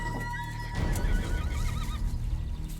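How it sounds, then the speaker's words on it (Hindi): Several horses gathered by a road whinny: a loud, close neigh with a wavering, shaking pitch rises over a steady low rumble and continues to the end. "यहाँ इतने सारे घोड़े क्यों हैं?"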